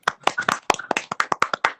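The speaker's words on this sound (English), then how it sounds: "we'll give NaAsiaha a quick round of applause" A few people clap during a virtual session, a sparse cluster of sharp, close, uneven hand claps over unmuted microphones, roughly a dozen strikes in quick succession.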